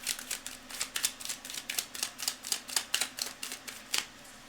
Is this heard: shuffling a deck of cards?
yes